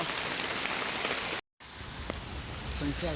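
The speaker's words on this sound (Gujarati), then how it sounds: "વરસાદ ફૂલ પડે છે" Heavy rain pours down steadily in Vapi-Bhilad, a dense, continuous hiss of drops striking surfaces, loud and close, broken by a brief dropout to silence partway through before resuming.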